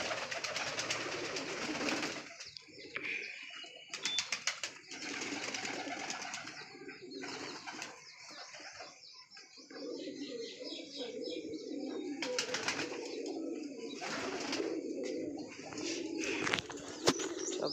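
Pigeons kept outdoors, including young birds, coo repeatedly in a continuous murmur with occasional chirps and brief wing flutters, fairly near and steady throughout.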